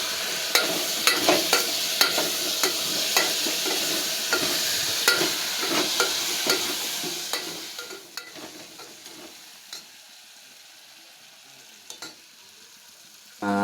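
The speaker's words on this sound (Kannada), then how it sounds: "ಹಸಿ ಅವರೇ ಕಾಳು ಆಲೂಗೆಡ್ಡೆನ ಒಳಗೆ ಹಾಕೊಳ್ಳಿ ಎಣ್ಣೆಲಿ ಹುರ್ಕೋಬೇಕು" Fresh hyacinth beans and potatoes fry in oil while being stirred, with rhythmic scraping strokes over a hissing sizzle for about eight seconds before settling into a quieter, fainter fry.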